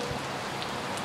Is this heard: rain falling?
yes